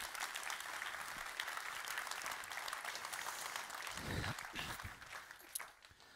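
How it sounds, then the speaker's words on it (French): A church congregation claps in sustained applause at a sermon, dense and steady throughout before thinning out near the end. "On peut au moins acclamer cette vérité."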